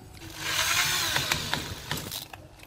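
Power drill driving a screw into a plastic wall plug, a continuous whirring motor with rising strain and a few sharp clicks near the end, close and moderately loud.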